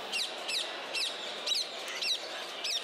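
Birds at an indoor bird fair in Pontivy, with African grey parrots, cockatoos, hens and pigeons, give a repeating series of sharp chirping calls about every half second, heard alone over a steady low hum.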